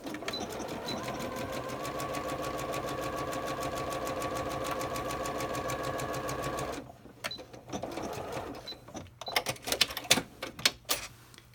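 A sewing machine stitches a 3/8 inch seam on track pants, running fast and steady for several seconds before stopping, followed by close handling clatter and small knocks of fabric and machine parts.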